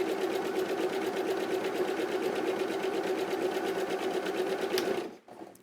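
Sewing machine running fast as it stitches a buttonhole, a steady loud whirring drone with rapid needle ticking that stops abruptly near the end.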